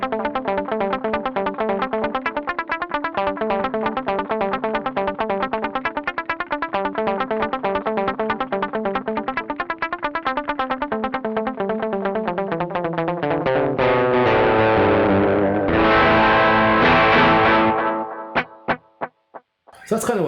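Guitar through a Caline CP80 Ragnarok analog delay pedal plays a fast rhythmic pattern, its repeats stacking into a dense echoing wash that swells loud near the end before stopping abruptly.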